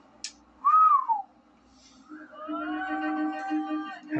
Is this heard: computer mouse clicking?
no